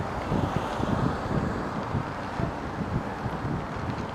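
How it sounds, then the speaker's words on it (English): Breezy outdoor wind buffets the microphone on a Los Angeles street walk in Alhambra, a steady low rumble with gusty swells throughout, no talk. "Oh, it's a little breezy."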